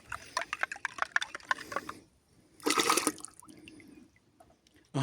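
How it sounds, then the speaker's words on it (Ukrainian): Baking soda is dissolved in warm water: water splashes and swirls in a container with clinking, stirring sounds, followed by a burst of pouring liquid, then quiet. "Тому соду окремо розчинюємо в теплій воді."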